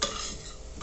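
Food being stirred as it fries in a pan over medium heat while browning for a lentil dish, a steady close sizzle with light scraping that runs alone through the brief moment.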